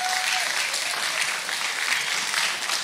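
A church congregation at a French-language sermon claps loudly and continuously with cheering mixed in, a dense, steady wall of applause with no pause.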